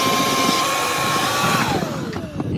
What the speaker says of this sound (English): we're gonna try to use the shop vac to start with